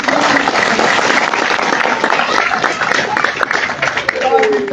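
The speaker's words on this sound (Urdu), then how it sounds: "پہلے تو آئی ایل ایف کے لیے تالیاں بجائیں" A crowd at a political rally in Pakistan claps and cheers in a dense, steady roar that continues throughout. A voice speaks over the noise through a loudspeaker.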